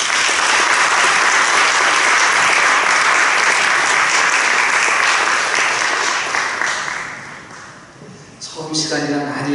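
A large audience at a church assembly candidates' forum claps loudly and steadily after a speech, the applause fading near the end as a voice begins speaking.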